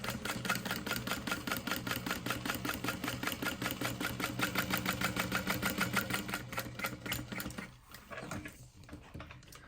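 A sewing machine stitches a line along fabric near zipper tape, running in a fast, even mechanical chatter of rapid needle strokes, close and loud, then stopping abruptly with a few softer handling sounds after.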